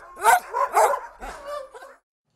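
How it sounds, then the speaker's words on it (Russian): A Samoyed dog held in a temporary shelter for stray animals gives a few close, loud barks and yelps in quick succession, then falls silent. "Более суток самоедская лайка находится во временном пункте содержания безнадзорных животных."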